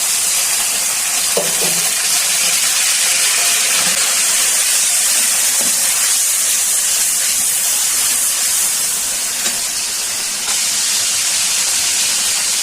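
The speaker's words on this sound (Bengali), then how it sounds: "বোনেরা, পেঁয়াজটা ভালো করে ভাজা হয়েছে, হালকা একটু জল দিয়ে দিচ্ছি, মশলাটা যাতে পুড়ে না যায়।" Water splashed into a pan of frying onions and spices sets off a loud, steady hiss of steam and sizzle that runs unbroken and close.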